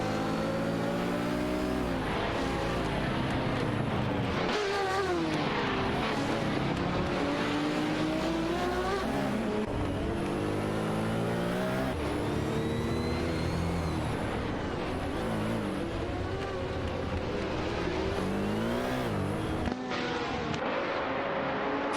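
Several Porsche 917 race cars, including a 917/20, howl through the gears in a racing video game, engines rising and falling in pitch as they accelerate, shift and pass, loud and continuous throughout.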